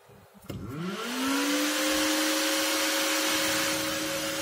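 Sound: electric fan running loudly

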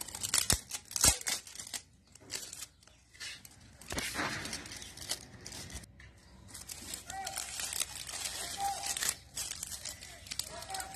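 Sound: gift box being opened, packaging cut and torn

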